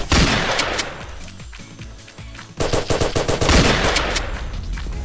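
Rapid automatic gunfire rattles in a battle royale video game, dense loud bursts that pause briefly and then resume in a sustained volley.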